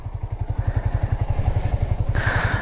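A Yamaha R15 v3 motorcycle engine idling close by with a steady, rapid mechanical pulse, a throaty low thrum and a slight rise in pitch toward the end.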